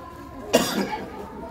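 A single sharp cough from someone speaking outdoors on a dusty road, with a short burst followed by fading breath, fairly close and not loud.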